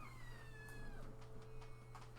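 A small cat gives a soft, drawn-out meow that falls in pitch, heard close and quiet over a low background hum.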